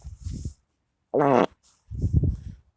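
A comedic fart noise on a television broadcast: one loud, buzzy burst of about a third of a second, set between stretches of low, talk-like voice.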